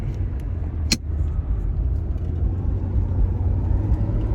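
Car driving along a road heading into the mountains past orchards, a steady low engine and road rumble throughout with one brief sharp click near the start.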